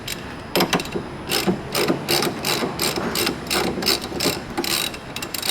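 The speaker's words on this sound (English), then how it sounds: "you can come back in with the ratchet" A hand ratchet works the nuts on a car's front strut bar during a castor radius rod chassis bush change. Rapid, close mechanical clicking comes in repeated bursts and stays loud throughout.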